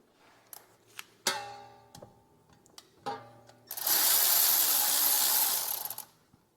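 A 10mm bolt on a 2018-23 Toyota Camry being undone during CV axle replacement: sharp metallic clinks and taps from tools, then a loud sustained whirring burst of a power tool lasting about two seconds.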